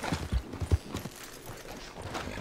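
A horse's hooves clip-clop at a steady trot in Red Dead Redemption 2, faint and muffled, with a few firmer thuds early on and a soft continuous background.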